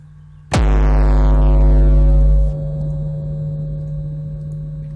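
A heavy distorted hardstyle kick drum hits once with a sharp pitched-down attack, then a long buzzing, saturated low tail built from a non-sine waveform that rings out and fades into reverb.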